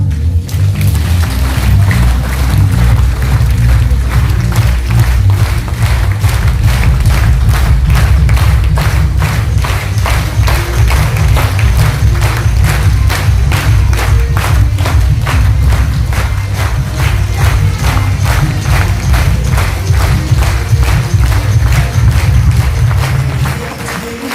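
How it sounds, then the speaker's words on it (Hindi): Seminar audience clapping in unison with both hands raised, a fast regular beat of sharp claps running throughout over a low musical drone. "तो दोनों हाथ ऊपर करके एक बार तालियां बजा दो।"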